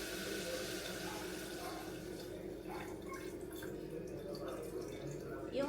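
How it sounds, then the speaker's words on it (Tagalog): Water pours into a cooking pot holding chicken gizzards, set to boil until tender, as a faint, steady trickle and splash continuing throughout in a quiet kitchen. "lalagyan ko ng tubig"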